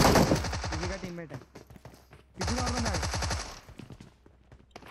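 Rapid automatic gunfire bursts in a battle royale video game, two loud close volleys separated by a pause, with rapid rattling shots and quieter game sounds between them.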